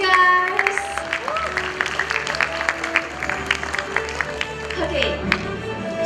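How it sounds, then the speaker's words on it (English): A youth summit panel audience applauds in a conference hall, moderate scattered clapping heard under overlapping voices and tonal background sound. "Give applause, guys!"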